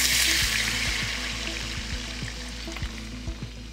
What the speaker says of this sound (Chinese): 接着加热水进去